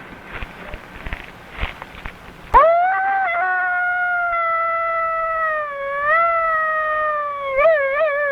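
After some soft rustling and footsteps, a coyote's single long, wavering howl rises and holds, fluttering near the end, clear and fairly close.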